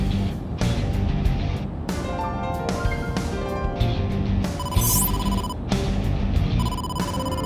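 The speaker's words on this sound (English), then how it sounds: "incoming call from the boss" A phone ringtone for an incoming call in the video game AI: The Somnium Files chimes in repeated tonal bursts over steady game background noise, with a rising electronic sweep partway through.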